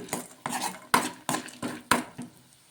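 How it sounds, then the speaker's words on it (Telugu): Peanuts and dal being stirred in a kadai, giving five or six rhythmic scraping, rattling strokes of a spoon against the metal pan, close and fairly loud with no talking. "పప్పులు కూడా వేసేసుకుని ఒకసారి బాగా కలిపేసుకుందాం"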